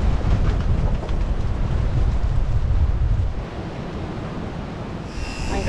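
Strong nor'west wind buffeting the microphone outdoors, a loud rough roar that eases slightly partway through and keeps blowing with no talking.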